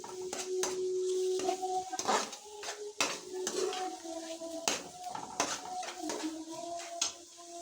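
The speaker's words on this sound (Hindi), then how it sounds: "इसे मिक्स करना है, 5 से 7 मिनट तक भूनना है।" Masala for mooli (radish) sabzi sizzles and fries in a pan while a utensil scrapes and clinks against the metal in repeated stirring strokes, close up.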